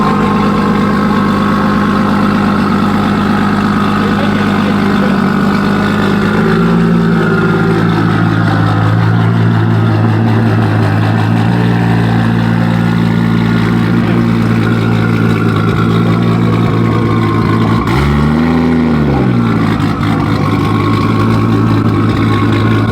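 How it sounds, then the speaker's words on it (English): A tuned BMW G82 sits idling, its engine a loud, steady low rumble held close for a long stretch, with a brief throttle blip and rev swell near the end. "let you guys enjoy the idle"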